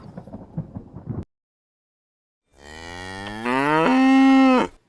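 A cow lets out one long, loud moo that swells and rises in pitch before stopping abruptly.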